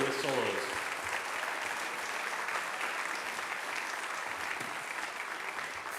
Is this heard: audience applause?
yes